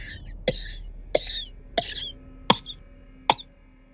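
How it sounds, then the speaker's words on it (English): A man's hoarse, wet, sickly cough repeats five times at an even pace, each burst sharp and rasping with faint gasping between, heard alone from nearby. "From inside her own cottage came a man's hoarse cough. It was wet and sickly, with an anguished gasping for air."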